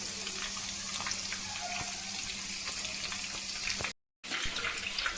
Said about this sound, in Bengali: গ্যাসটা কমিয়ে দিয়ে ভাজছি